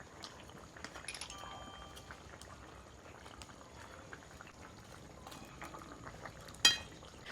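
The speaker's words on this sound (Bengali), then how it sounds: "মাছ দিয়ে আরও কিছুক্ষণ একটু ফুটিয়ে নেব" A fish curry (macher jhol) of rohu with cauliflower bubbles in a pot as the fish simmers, a soft, steady boiling hiss throughout with one brief clink near the end and no talk.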